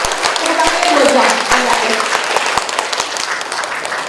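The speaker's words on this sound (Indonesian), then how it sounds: "Tepuk tangannya 2 jam." Seminar audience keeps up its applause indoors, steady dense clapping with scattered louder individual claps, while a voice talks over it.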